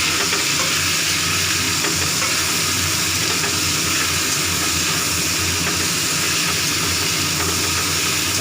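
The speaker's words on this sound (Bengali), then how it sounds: "লতি ভালো ভাজা হয়ে গেছে" Taro stolons (lati) fry in a pan with loud, dense, unbroken sizzling and hissing that fills the whole stretch, with no speech.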